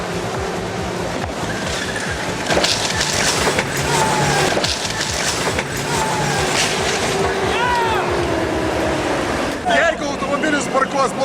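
A tank rolls over a badly parked car, with heavy crunching, splintering and grinding of metal and glass, loud and close, while voices talk over it.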